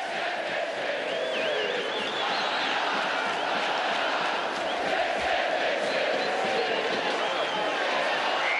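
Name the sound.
Figueirense football fans singing in the rain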